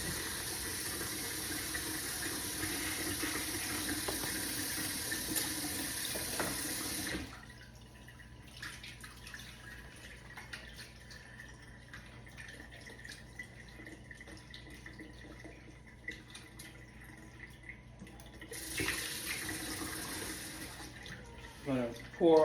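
Tap water running into a pot to wash jasmine rice in a home kitchen: a strong continuous gush for several seconds, then a quieter stretch of trickling and clinking, before the flow surges again near the end.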